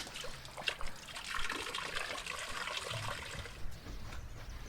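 Fountain water trickling and splashing steadily on the Biltmore estate grounds, a soft continuous patter heard fairly faintly without speech.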